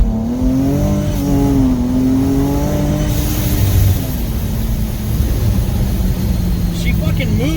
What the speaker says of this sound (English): You're gonna hear the revs go up.